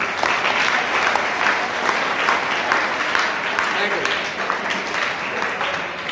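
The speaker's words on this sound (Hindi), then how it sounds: "इनके लिए सभी लोग तालियां बजाते हैं।" An audience, children among them, claps together at a Hanuman Jayanti gathering, a steady, moderately distant round of applause lasting several seconds with voices mingled in.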